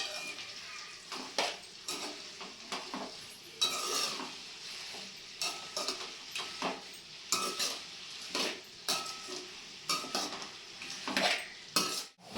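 Green chillies frying in oil in a pan, a spoon repeatedly scraping and clinking against the metal as they are stirred, steady sizzle underneath the irregular close clatter.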